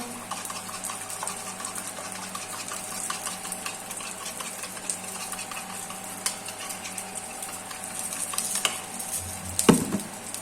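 Omelettes for an egg curry sizzle steadily in a hot pan with beaten egg, chopped onion and green chilli, a continuous frying hiss with scattered light scrapes and a sharper clink near the end.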